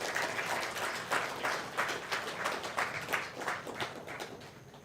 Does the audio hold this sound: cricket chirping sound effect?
no